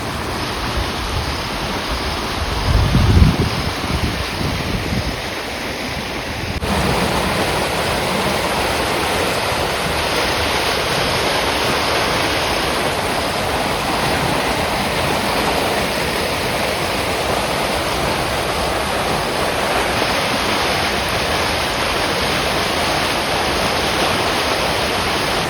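Floodwater rushes along a stream swollen by unseasonal rain, a loud, steady broadband roar of churning water that continues unbroken and close by, with a brief bump of handling noise near the start.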